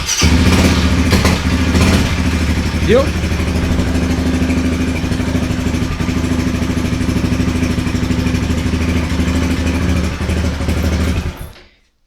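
Honda CG Titan motorcycle engine after a carburetor cleaning, catching and settling into a steady, close, loud idle with a mechanical clatter for about eleven seconds before cutting off abruptly; a brief spoken word sits over it.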